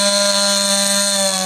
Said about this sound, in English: Chainsaw, an all too familiar sight for residents of Lottery Amity Hall in St. James.